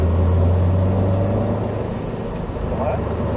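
A Subaru WRX STI on a driving course pulls away under steady acceleration, its engine drone holding firm and close, with a voice talking over the engine.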